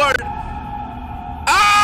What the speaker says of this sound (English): Okay, I'll scream.